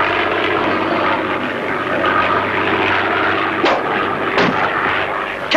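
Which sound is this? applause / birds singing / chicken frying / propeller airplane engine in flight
propeller airplane engine in flight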